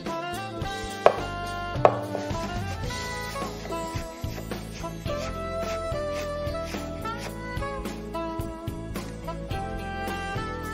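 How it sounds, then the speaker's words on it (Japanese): A knife julienning peeled ginger on a cutting board, the slices laid flat first, gives quick, regular chopping taps that sit under steady background music. "こちらを皮をむいた後に、千切りにしていきます。"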